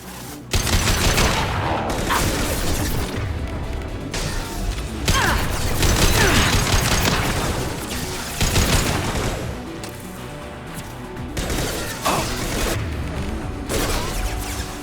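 Dense gunfire rattles through a firefight in Mass Effect 2, with loud bursts of automatic fire, booms and crashes that repeat in waves with only brief lulls.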